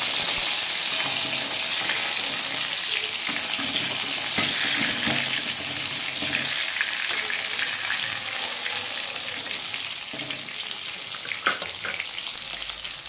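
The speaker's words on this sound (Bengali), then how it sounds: "এই বাকি মাছগুলো আমি এবার ভেজে নিচ্ছি।" Pieces of rohu fish fry in hot oil in a pan, a steady, close sizzling hiss with faint scrapes and occasional pops, no talking.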